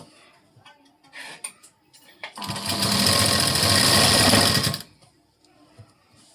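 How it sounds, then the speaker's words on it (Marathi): A sewing machine stitches a blouse fitting seam in one continuous whirring burst of about two and a half seconds, set between quieter handling clicks and taps. "आता इथून शिलाई देऊन घेऊ"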